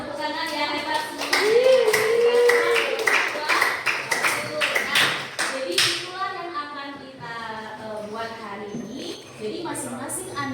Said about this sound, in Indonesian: Tepuk tangan ya, hebat semua.